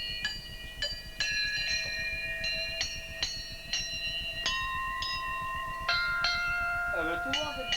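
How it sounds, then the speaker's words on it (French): A church bell, rung by pulling its rope, rings in repeated strokes, each clang ringing on with bright overtones, steady and fairly close, with a faint low rumble underneath. "Allez, tire le cloche par le bout."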